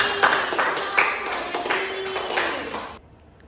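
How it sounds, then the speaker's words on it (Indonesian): A classroom of students clapping for a classmate at an Indonesian school peer-teaching session, a scattered burst of hand claps with a few sharper individual claps, lasting about three seconds before stopping abruptly. "tepuk tangan untuk Mbak Debbie"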